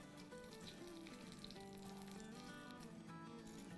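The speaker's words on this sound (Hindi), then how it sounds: "अब हम अपना ये तड़का जो है वो एक पे लगा देंगे।" Spices for a tadka crackle and sizzle in hot oil, a continuous close frying hiss with faint pops throughout.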